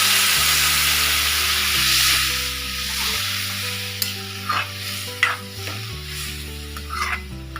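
Vegetable curry (sabzir rassa) cooking in a pot as water is added, a steady broad sizzle and bubbling hiss throughout, with a few soft stirring scrapes and clinks in the second half and low background music.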